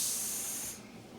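Spray gun hisses steadily as clear coat is applied to a car hood, a loud bright airy rush that cuts off abruptly after a moment, leaving a softer residual hiss.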